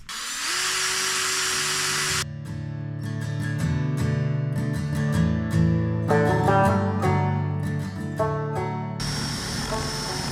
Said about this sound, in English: let's drill those bits and get them attached together